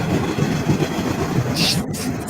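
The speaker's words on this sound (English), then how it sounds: "Hop on the fucking train, Jay." A train rolls along the tracks close by, a continuous loud rumble with a faint rhythmic clatter over about two seconds and no voices.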